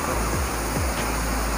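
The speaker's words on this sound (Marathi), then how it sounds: "येत्याच वॉटरफॉलचं पाणी" Steady, dense rush of a waterfall at Pahine near Trimbakeshwar, Nashik, a continuous broadband roar filling the whole stretch with no breaks or voices.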